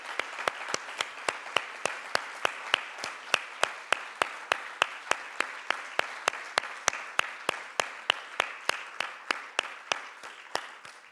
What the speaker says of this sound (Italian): per i quali vi chiedo un calorosissimo applauso